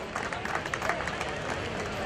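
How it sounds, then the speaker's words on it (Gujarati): Seated audience applauding to honour guests at a Patidar community mass wedding ceremony in Ahmedabad, a steady, dense wash of clapping from a crowd with faint murmuring underneath, continuous throughout. "આપણે તાળીઓ પાડી તેમનું સન્માન કરીશું બેઠા બેઠા"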